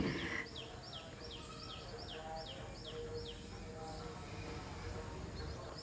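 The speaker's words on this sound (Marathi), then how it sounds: "पक्ष्यांचा आवाज सकाळी सकाळी ना खूप छान इथं येतो" Several birds chirp and sing in quick repeated morning phrases over a quiet village outdoor background, with a faint voice in the distance.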